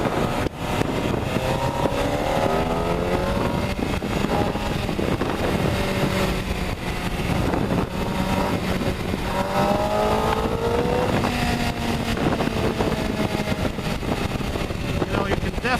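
A 2009 MV Agusta F4 RR 1+1 four-cylinder motorcycle rides through daytime Chicago traffic, its smooth engine note climbing and dropping through gear changes under heavy wind rush.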